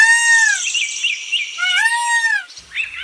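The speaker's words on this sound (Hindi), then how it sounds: "यहाँ तो सब पक्षियों की आवाज सुनने को मिल रही है।" Several birds call in a jungle setting, clear whistled tones sliding up and down in repeated phrases, one voice after another, close and fairly loud with no talking.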